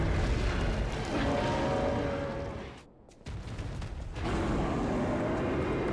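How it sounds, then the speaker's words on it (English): An explosion from a boss's impale attack in the video game Lies of P, a dense, loud rumbling blast that briefly cuts out midway before the roaring wash resumes. "it will also leave an explosion when he impales"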